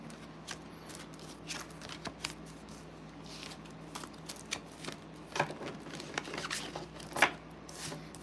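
Soft, quick riffling and tapping of tarot cards being shuffled by hand, intermittent bursts of papery flicks, quiet and close.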